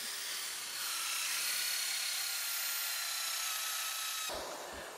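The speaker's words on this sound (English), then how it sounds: "we're going to use a diamond grit hole saw" A diamond grit hole saw bores into a door, giving a steady high whining grind that holds for about four seconds before cutting off, followed by a couple of soft knocks.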